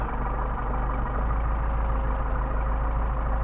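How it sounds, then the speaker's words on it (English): A carbureted engine with a Solex carburetor idles at low RPM, holding a steady, even low rumble with no voices. "you can see how nicely it idles at low RPM"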